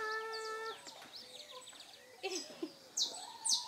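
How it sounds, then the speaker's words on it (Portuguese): Chickens clucking nearby on a farm: a run of bright, squawking calls gives way to short, scattered clucks and cackles of moderate loudness. "E nós aqui, ó, caducando com galinha."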